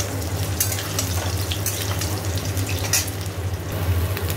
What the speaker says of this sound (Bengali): আলুগুলো দিয়ে দিয়েছি, ভালো করে একটু ভাজা হোক